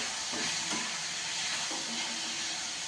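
Bhogi mixed vegetables fry and are stirred in a pan, giving a continuous close sizzle and hiss with soft scraping movements of the spoon through the vegetables.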